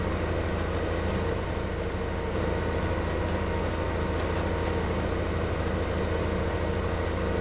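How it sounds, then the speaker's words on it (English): A tractor engine in the Farming Simulator video game drones at a steady low, even pitch throughout while the tractor cruises along, with no voices heard. "doing it with this tractor is definitely the way to go because this tractor just cruises right along"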